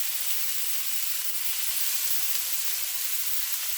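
Meat searing on high heat while being roasted, Liberian style, to char on one side; a steady, bright sizzle holds evenly throughout with no pauses.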